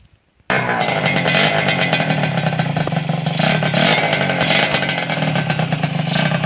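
A Honda Dash 125 two-stroke motorcycle engine starts abruptly and runs loud and close, with a rough, buzzing rev held steady and rising and falling slightly, with no talking.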